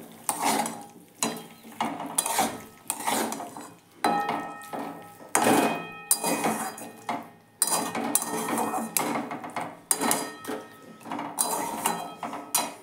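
Dates and tomato chutney are stirred in a pan, with repeated rhythmic scraping and clinking of a spoon against metal in bursts about a second apart, moderately loud and close, with no voices.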